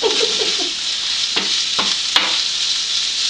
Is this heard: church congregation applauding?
no